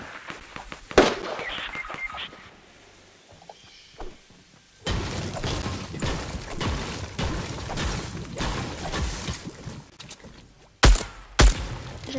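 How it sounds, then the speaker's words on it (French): Rifle gunfire in the video game Fortnite, an assault rifle firing in a gold-themed mod: sharp cracking shots, a burst early, then a dense sustained stretch of loud firing and a couple of final separate shots near the end. "J'aime bien tirer les 2 dernières balles au fusil"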